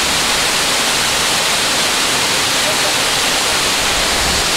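A waterfall in Tanay roars as a loud, unbroken broadband rush, close and constant for the whole stretch with no other sounds breaking through.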